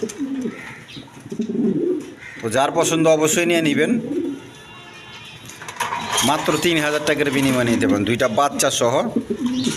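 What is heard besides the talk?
tulip pigeons cooing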